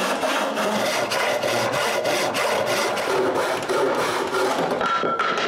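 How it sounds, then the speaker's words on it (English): A handsaw rips lengthwise through a wooden board in fast, regular rasping strokes, close and loud, with no voices. "A cut with a handsaw"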